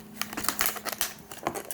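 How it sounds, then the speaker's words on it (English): Scissors snip and crinkle through plastic toy packaging at close range, with a quick run of short cutting and rustling bursts and no talking. "I had to get scissors."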